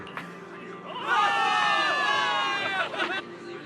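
Soldiers in the video game Zenless Zone Zero cheer together for a victory. A bright burst of massed shouting rises after a short pause, holds for about two seconds and then breaks into scattered calls.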